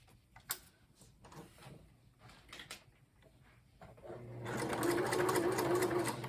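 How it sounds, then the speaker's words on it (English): A sewing machine stitching a zigzag pattern around a Mothman design on a T-shirt, starting with scattered clicks and handling noises, then running into a steady loud mechanical whir for the last two seconds. "I'm just going to sew in a zigzag pattern around the Mothman"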